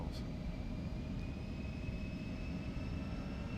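Embraer E175 jet engines spool up in the X-Plane 12 flight simulator, a steady, even roar with rising high whining tones that hold throughout, with no talking.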